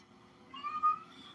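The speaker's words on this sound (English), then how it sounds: "The cat has been meowing in my goddamn ear all fucking day" A cat meows once or twice nearby, a short rising and falling cry over a low background hum, fairly quiet with no talking.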